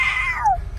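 A voice imitates a cat's meow, one drawn-out rising then falling call lasting under a second, close and fairly loud with no other talk over it.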